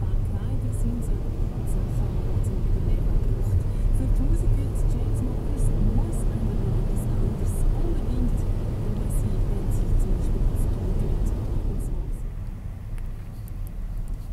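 Car driving across the Renzo Piano bridge in rainy weather, a steady low road rumble and tire noise heard from inside the vehicle, continuous and fairly loud before quieting near the end.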